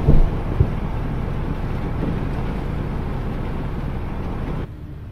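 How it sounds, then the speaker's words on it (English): Gusty wind rushes and buffets the microphone in a steady roar in a cornfield, cutting off abruptly near the end. "Windy here in these cornfields."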